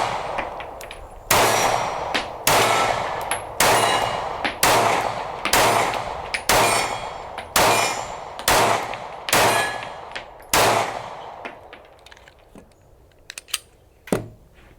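Taurus GX2 subcompact pistol firing about ten shots in a steady, evenly spaced string, each crack sharp and loud with a short ringing tail, then a pause and a couple of lighter clanks.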